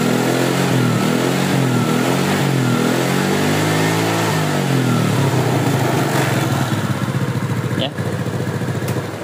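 Yamaha Mio scooter engine, repaired after a fault causing white exhaust smoke and fast oil loss, revving up and settling into a smooth, loud, close idle while a voice speaks briefly.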